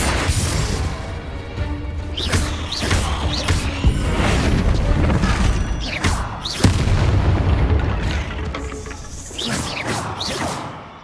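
Confringo blasting spell explosions in the Hogwarts Legacy video game: repeated heavy booms and crashing bursts with whooshing magic swishes, loud and dense throughout amid game music and effects.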